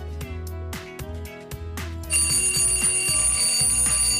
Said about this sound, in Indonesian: memilih salah satunya, yaitu nada dering yang bernama alarm clock